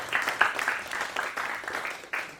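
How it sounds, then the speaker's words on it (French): Scattered, fairly quiet applause from a small audience at a round-table conference on company restructuring, uneven claps fading slightly before a final sharper clap. "Les applaudissements."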